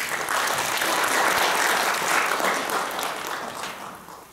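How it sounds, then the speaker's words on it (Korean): Sustained audience applause at a Korean-language panel discussion on barrier-free travel, steady and full for several seconds before tapering off. "박수 한번 주십시오."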